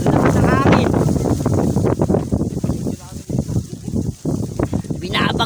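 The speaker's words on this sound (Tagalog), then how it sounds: "lakas ng hangin." Strong storm wind buffets the microphone in loud, rumbling gusts at a fishing spot in Malabon while a person talks in Filipino over it throughout.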